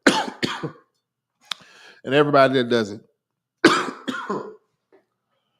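Harsh coughs break out near the mic, a voice speaks briefly between them, and another rough cough bursts out before quiet returns.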